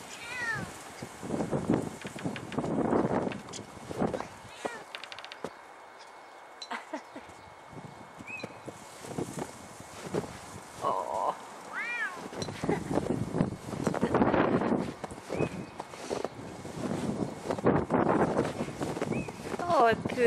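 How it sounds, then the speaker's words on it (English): Wind gusts and buffets outdoors in Scottish snow, a rough, rushing roar that eases briefly midway and then returns, with a Bengal cat meowing and a person talking over it. "The wind."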